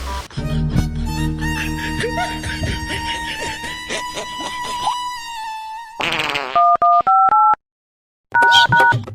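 A telephone being dialed: after a burst of loud electronic tones and music, a series of distinct keypad beeps sound one after another with brief pauses, then a final pair of tones, crisp and close.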